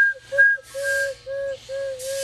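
Tiny bellows-driven whistles pulled from a cuckoo clock, blown very lightly by mouth, give a series of short, clear two-tone whistle notes with breathy bursts between them, close up and fairly loud.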